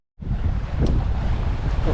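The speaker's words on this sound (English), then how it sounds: "The wind and the waves are coming in this direction" Wind and sea waves out on the Mediterranean aboard a sailboat: a loud, continuous rushing roar with heavy wind buffeting, starting abruptly and holding steady.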